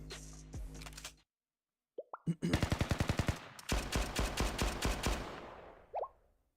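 Rapid gunfire in the Blue Archive game, a sharp rattling automatic burst of evenly spaced shots, then a second longer string, loud and close, with brief sound effects before and after.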